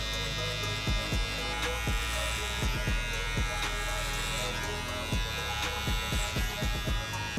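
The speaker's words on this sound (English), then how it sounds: "Now I'm using the Gamma skin clipper." A Gamma skin clipper cuts hair during a skin fade haircut, producing a steady loud electric buzz with repeated brief strokes as it passes over the head, close up.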